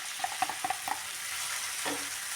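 Soaked puffed rice (mandakki) hits hot oil in a pan for egg mandakki, a few quick clicks of it landing and being stirred at the start, then a steady close sizzle.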